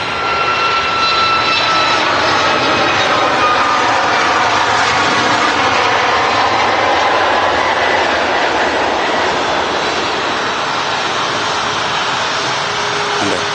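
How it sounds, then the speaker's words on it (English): A Ryanair jet departing Manchester Airport for Warsaw, a loud sustained roar of jet engines with sweeping tonal whines that shift as it passes, filling the whole stretch without talk. "We've got this Ryanair now, which is departing to Warsaw."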